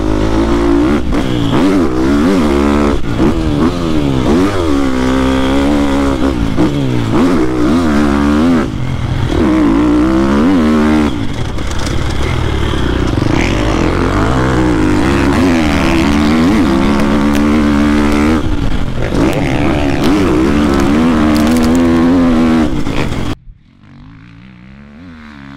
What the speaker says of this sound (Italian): Motore super potente, senti come canta anche quando lo tiri.